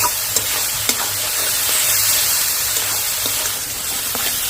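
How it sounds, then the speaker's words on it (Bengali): Ghugni masala stir-fried in a pan with a little water, a steady close sizzle with scraping stirs throughout, no talk. "এই সময় আমি দিয়ে দিচ্ছি অল্প একটু জল ভালো করে একটু কষিয়ে নেব"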